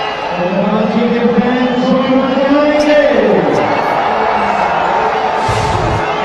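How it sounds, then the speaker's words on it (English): A full-house cricket crowd in Lahore roars steadily after a boundary, a loud, sustained swell of cheering with whoops rising above it, and a commentator talks over the noise. "Boundary there, but lots of emotions down there with the crowd, full house."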